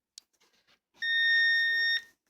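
A weather radio receiving a weak signal sounds the EAS end-of-message tones: a brief chirp and scattered static, then a steady, loud electronic tone lasting about a second before cutting off.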